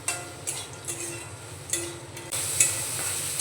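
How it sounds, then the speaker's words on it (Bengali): A spoon stirs curry leaves through a hot frying pan, giving repeated soft scrapes and clinks over a low sizzle, close by, with no talk. "কারি পাতাটা এখানে দিয়ে দিলাম, একসঙ্গে মিশিয়ে একটু নাড়াচাড়া করে নেব"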